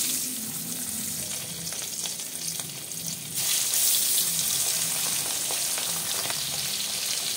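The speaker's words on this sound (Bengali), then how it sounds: "একটু টপিট করে ভেজে নেব" Close, dense sizzling of small dhela fish frying in oil, steady crackle throughout that grows louder and brighter about halfway through, with no voices.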